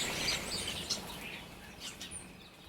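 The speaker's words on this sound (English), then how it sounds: "Oh God, I can hear birds now." Faint bird chirps and tweets scatter over quiet background hiss, a few distant calls in the early morning stillness.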